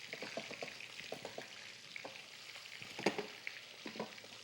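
Rosemary-coated chicken cutlets fry in a pan, giving a soft, continuous sizzle dotted with small crackles and pops, fairly quiet and close, with no voices.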